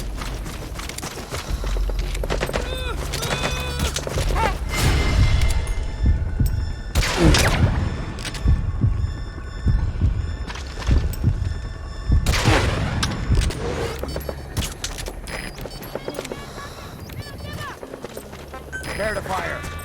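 Soldiers firing guns in Metal Gear Solid 5: The Phantom Pain, with bursts of thumping gunfire and heavy booms at uneven intervals under shouted orders and a dense, rumbling game soundtrack.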